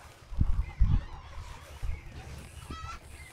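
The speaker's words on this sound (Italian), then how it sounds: "Gallina livornese" Leghorn chicken in Red Dead Redemption 2 giving two loud, close honking squawks early on, then softer fowl calls and a faint high trill near the end over quiet game ambience.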